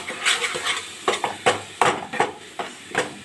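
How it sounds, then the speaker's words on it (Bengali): A spice masala of cumin and Kashmiri chili powder fries in a pan for a hilsa and eggplant dish, stirred in a quick series of rhythmic scraping strokes over a soft sizzle, with no talk. "এখন আমি মশলাটাকে ভালো করে ভেজে নেব।"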